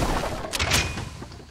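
Turret firing in a video game, a quick cluster of sharp gunshot cracks over a low rumble, short and moderately loud, with no one talking.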